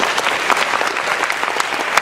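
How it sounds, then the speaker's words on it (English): An indoor audience claps steadily at a college convocation, a dense continuous patter of applause throughout. "I think that deserves a round of applause."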